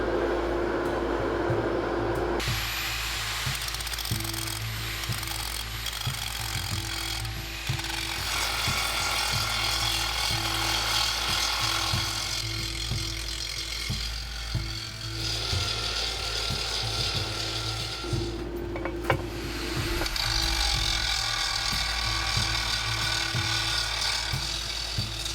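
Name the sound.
grinder grinding bumps off thermite-made metal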